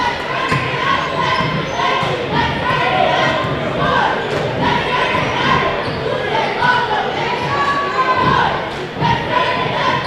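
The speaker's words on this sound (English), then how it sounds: "Brewer gets a nice round of applause from the Camden faithful as he'll take a seat" At a high school boys' basketball game between Winslow and Camden, the Camden home crowd applauds a player leaving the court: a steady, loud wash of crowd noise with a commentator talking over it throughout.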